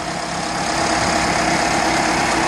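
A prewar 1936 MG PB car engine with an electric starter runs close and loud in an even, low idling rumble with no pauses and no talking.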